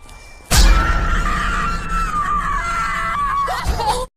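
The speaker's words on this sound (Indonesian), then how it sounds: "Alice pun hanya mampu berteriak histeris melihat Tom yang tewas mengenaskan" A woman near a forest cabin lets out a loud, hysterical scream. It bursts in abruptly and holds shrill and unbroken for about three and a half seconds before cutting off.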